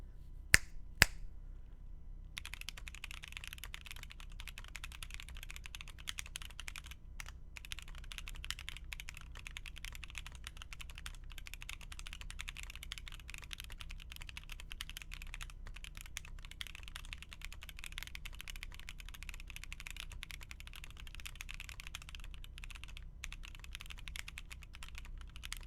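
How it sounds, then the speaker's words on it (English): Typing test on a custom-built mechanical keyboard: a fast, continuous stream of crisp, close key clacks, preceded by a couple of sharp taps. "we need some typing tests"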